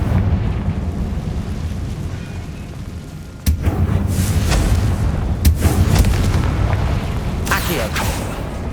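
In Hogwarts Legacy, a Confringo fire spell goes off as a sudden heavy boom, followed by further explosive bursts and crackles over a rumbling game soundscape. Voices can be heard in the background.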